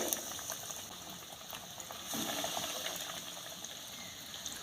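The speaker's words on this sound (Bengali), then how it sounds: "তেলের মধ্যে এক এক করে দিয়ে ভেজে নেব" Egg devil chops (Bengali dimer chop) deep-fry in hot oil with a fairly quiet, continuous bubbling and frothing that holds steady throughout, with no voices.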